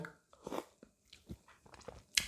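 Close, quiet chewing of a piece of home-cooked chicken: soft moist bites and crunches in an irregular rhythm with short pauses, ending on a louder bite.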